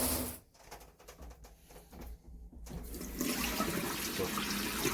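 A Japanese bidet toilet in Tokyo sprays a strong jet of water, a steady rushing hiss that dips briefly and then grows louder and fuller.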